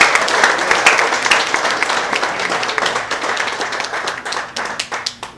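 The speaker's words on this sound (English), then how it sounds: "I think we all need to give them a round of applause" An audience at a 2014 community gathering in Murphysboro claps steadily, a dense patter of many hands that gradually thins and softens toward the end.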